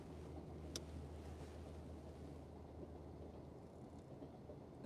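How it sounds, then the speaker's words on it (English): A cargo train rolls past near Takinoue in Hokkaido, Japan, a steady low rumble and rattle of wagons that holds at a fairly even, moderately loud level throughout, with no voices over it. "It's a cargo train."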